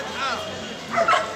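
A dog gives a couple of short, close yelping barks at a busy Friday dog market where puppies are sold, heard under people talking.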